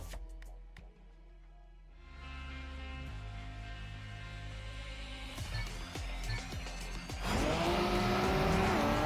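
A race car on a tarmac circuit in a racing video game revs and accelerates hard, its engine note climbing and roaring louder toward the end, with brief tire noise and no talk.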